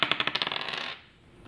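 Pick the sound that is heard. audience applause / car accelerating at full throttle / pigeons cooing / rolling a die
rolling a die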